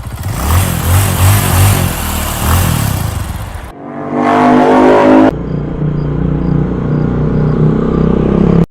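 A vehicle engine revving hard as it is driven, loud and close, with a sustained roar that shifts in pitch, cuts abruptly, then settles into a steadier rumble; no talking.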